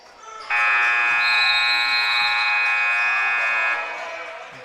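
Basketball halftime buzzer at a varsity boys high school game in a gym, one long loud steady electronic blare lasting about three seconds over crowd murmur.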